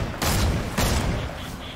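Video game gunfire: two heavy, booming shots about half a second apart, loud and close, each trailing into a brief rumbling decay.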